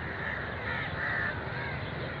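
Crows caw outdoors at dusk in Pakistan, several harsh calls repeating in a loose rhythm over a steady background hum.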